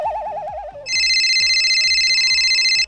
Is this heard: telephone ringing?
yes